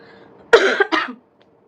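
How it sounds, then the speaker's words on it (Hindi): A person coughs twice in quick succession, a sharp close burst followed by a shorter one, then quiet. "खांसी, इग्नोर खांसी।"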